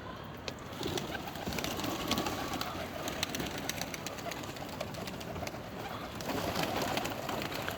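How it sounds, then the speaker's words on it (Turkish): Soft pigeon cooing mixed into a busy outdoor background, with scattered faint bird calls and steady ambient noise throughout. "Bakın kuşlar burada."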